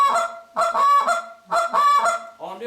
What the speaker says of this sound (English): Or the moan cluck.